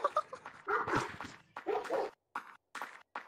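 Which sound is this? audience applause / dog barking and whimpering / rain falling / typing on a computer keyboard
dog barking and whimpering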